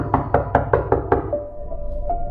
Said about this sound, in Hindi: यूं लग रहा था जैसे कोई अलमारी के अंदर से नॉक कर रहा हो